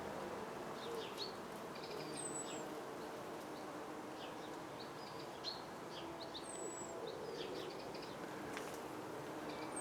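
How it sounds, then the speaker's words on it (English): Bees buzz and hum around a garden of large rhododendrons, a faint, steady, distant drone with a couple of thin high bird calls over it. "standing here I can hear the buzz and the hum of the bees"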